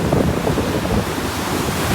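Rough sea surf pounds Pattinampakkam Beach in Chennai during Cyclone Fengal: a continuous, loud roar of breaking waves with heavy wind buffeting the microphone throughout, and no voices.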